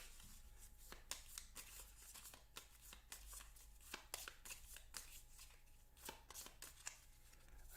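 Deck of cards shuffled repeatedly for a Sentinels of the Multiverse board game, a run of crisp riffling and snapping bursts at close range, fairly quiet, with no talk.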